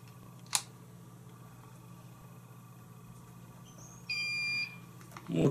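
A kitchen-style electronic scale gives one short, steady electronic beep as it is zeroed. The beep is clear but faint in a quiet room, after an earlier brief click.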